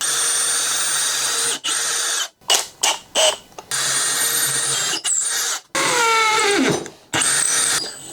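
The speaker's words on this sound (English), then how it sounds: "make a couple X's there, and then drill these going upward in width" A power drill with a stepped bit bores holes in a woodworking project: loud whining bursts of drilling, several short stops and restarts, one run winding down in pitch, all close and with no talk.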